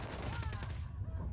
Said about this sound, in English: Hang back, they see you. Opening fire.